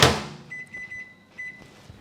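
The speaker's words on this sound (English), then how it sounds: "I'm gonna whack that in the microwave for a couple of minutes" A microwave oven heating chicken and rice: a door clunk, then a faint steady hum with a few short beeps, quiet and close, no voices.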